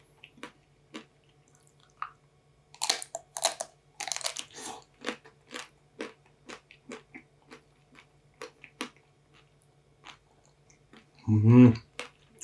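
Crunchy bites and chewing of a chocolate-coated ice cream bar, close and crisp, with clustered crunches coming in bursts between quiet pauses, and a loud close mouth sound near the end.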